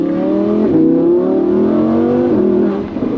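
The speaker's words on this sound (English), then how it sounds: "so you can still hear the V10" A Lamborghini V10 engine hums at steady revs with a smooth, rising and falling tone, heard from inside the cabin with the rear window open, loud and continuous.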